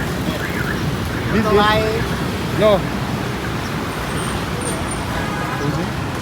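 Busy Vietnamese road with rickshaws and no traffic signal, a steady roar of passing vehicles throughout with a few louder swells as nearer ones go by; someone talks over the traffic.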